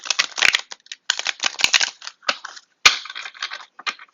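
Tarot cards riffle and snap in quick bursts of crisp, papery flutters, close up, with short pauses between each shuffle.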